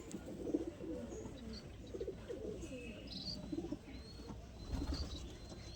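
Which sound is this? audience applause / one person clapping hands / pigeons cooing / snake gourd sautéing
pigeons cooing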